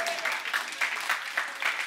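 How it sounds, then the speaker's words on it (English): A church congregation claps hands in a steady rhythmic beat, roughly four even claps per second-and-a-half, close and clear with no voices over it. "somebody ought to clap their hands and say hallelujah"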